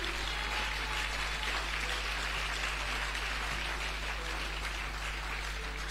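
Church congregation clapping in praise of Jesus, a dense, steady wash of many hands applauding together over a low hum, sustained without pause.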